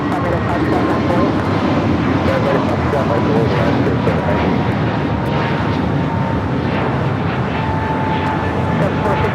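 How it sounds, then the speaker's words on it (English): An American Airlines Airbus A321neo takes off from LAX, its engine roar a steady, broad, sustained rumble heard from a distance, with radio voices talking over it. "That was American Airlines 2073 taking off to Phoenix on the A321neo."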